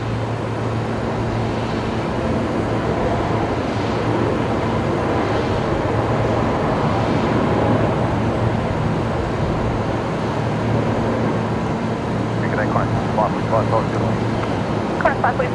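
A Jetstar airliner, flight 154, touches down at Brisbane Airport, its engine roar a steady loud broadband rumble with wind buffeting throughout. Voices talk over it near the end.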